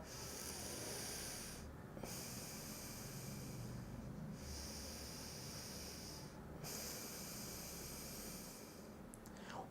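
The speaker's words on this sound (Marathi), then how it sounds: "उजव्या नागपुडीने श्वास घ्यायचा आहे आणि उजव्या नागपुडीने श्वास सोडायचा आहे" Slow, deep breaths are drawn in and pushed out through the right nostril, heard close up as soft, airy rushes in a steady rhythm with brief pauses between cycles.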